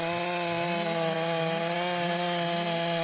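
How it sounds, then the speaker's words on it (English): A Stihl MS 661C chainsaw with an extra long bar cuts into a huge oak trunk during felling. The engine holds a loud, steady high-pitched whine close by, with no talk. "To bring this giant down, it takes raw power, the Stihl MS 661C with an extra long bar."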